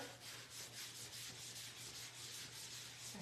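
Soft, steady rubbing of a cloth spreading Norwex leather conditioner over a leather seat, faint and close, with a quiet continuous swishing rhythm and no talk.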